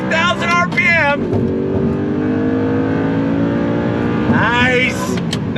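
A 2009 Audi R8 with a 6-speed manual revs hard to 8,000 RPM, its engine note climbing loudly and sweeping up again through a gear change, with someone talking over it.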